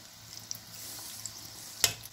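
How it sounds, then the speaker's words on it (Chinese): Meatballs deep-frying in oil over medium heat, a soft steady bubbling hiss with a light clink near the end, close and quiet, no talking. "丸子进去炸， 那个火不要开很大火"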